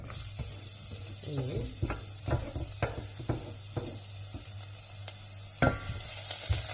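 Garlic sizzles in hot frying oil in a home kitchen, a soft steady crackle broken by sharp clinks and scrapes of stirring, while a voice speaks briefly.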